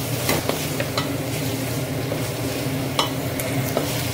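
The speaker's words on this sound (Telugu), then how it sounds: "టమాటాలు కూడా ఫ్రై చేసుకోండి." Tomatoes frying in oil in a pan for coconut rice, a loud close sizzle with a few sharp stirring scrapes and taps.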